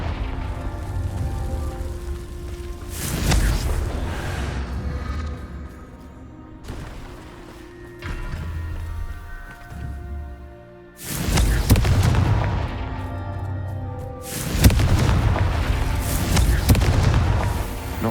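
Magic spell explosions going off in the Hogwarts Legacy video game, a series of loud, booming blasts with crackling debris spaced across the stretch, alongside game music and ambience.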